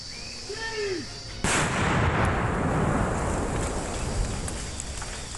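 A sudden loud blast from a detonated pressure-cooker bomb booms out in a forest after a moment of quieter sound, followed by a long rumbling roar that slowly fades; no speech.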